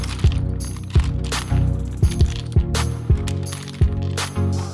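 Keycaps pulled one by one off an SK64 mechanical keyboard with a wire keycap puller. About eight sharp plastic clicks and pops come at uneven intervals, close and clear, with no talk.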